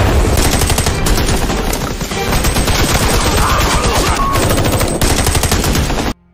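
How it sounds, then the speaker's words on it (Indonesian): Dense, continuous automatic gunfire from a film firefight between special forces soldiers and an enemy squad, loud and sustained for several seconds before cutting off abruptly at the end. "dan baku tembak pun terjadi"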